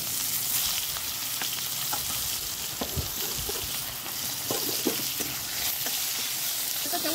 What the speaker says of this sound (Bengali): সবজির মধ্যে নিয়েছি ঝিঙে আর পটল, অল্প করে একটু তেলে নেড়ে নেব।